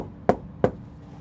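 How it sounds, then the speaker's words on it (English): Two sharp knocks on a locked door at an alternate care facility, about a third of a second apart, close and fairly firm, with quiet room tone around them. "They knock"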